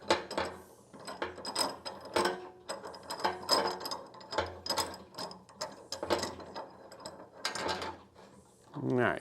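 Clamp being ratcheted tight to hold a board against a table, a close run of rapid clicking pawl bursts in an irregular rhythm, fairly quiet, with no talking.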